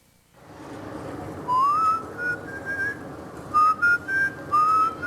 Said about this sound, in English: When I'm nervous, I whistle.